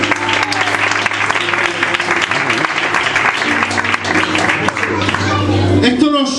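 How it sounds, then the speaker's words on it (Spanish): Church congregation applauding during a Good Friday sermon on the seven words from the cross, a loud, continuous roll of clapping with a sustained organ-like tone and voices mixed in. "Dar un aplauso al Señor."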